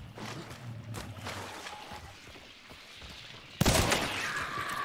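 Gunfire in the video game Hunt: Showdown, with repeated shots and rattling bursts throughout and a loud, close blast near the end, over ongoing game ambience.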